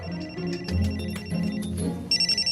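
A mobile phone rings with a repeating electronic ringtone, a bright melodic pattern heard alone over a low background hum, ending in several rapid pulsed beeps.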